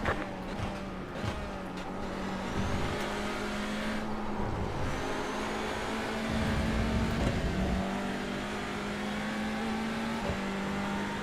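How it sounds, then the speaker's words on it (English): A race car engine in a TCR and GT4 multiclass racing video game drones steadily for several seconds, with a second car's engine swelling as it closes in and passes, continuous and fairly loud. "Faster car coming up quick."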